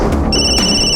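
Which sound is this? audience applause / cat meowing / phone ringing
phone ringing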